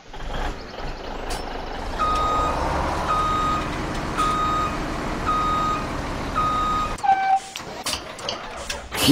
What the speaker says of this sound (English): Now I got this truck here backed up.